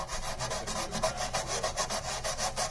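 A Dremel tool scrubs the inside of a Ninja Foodi Smart XL Pro Air Oven, making a loud, close, rhythmic rasping with rapid, evenly pulsing strokes and no talk.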